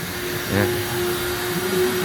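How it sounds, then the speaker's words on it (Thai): Vacuum cleaner in the vacuuming section of a car wash: a steady, close drone with a constant whine, and a short sucking surge partway through. "นี่ส่วนของแผนกดูดฝุ่นนะครับ"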